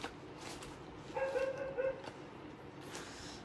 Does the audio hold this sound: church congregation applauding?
no